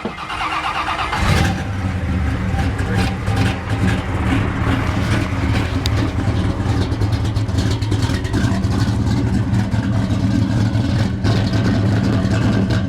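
A 1956 Chevy 210 two-door hardtop restomod with a big-block V8 cranks briefly, fires, then settles into a loud, close, steady lumpy rumble that holds for the rest of the clip with no talking.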